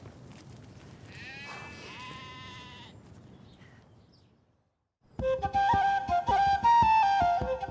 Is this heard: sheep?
yes